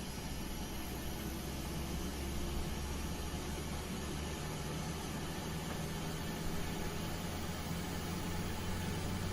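PMDG 737-800 engine start-up in a flight simulator game, heard as a steady, loud, continuous roar and whine of the jet engine spooling up, with a broadband hiss and a low rumble throughout, no talk.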